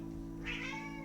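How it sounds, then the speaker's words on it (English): A single short cat meow rises briefly and faintly over a steady low hum in a quiet room, with no one talking. "Can you hear her meowing in the background?"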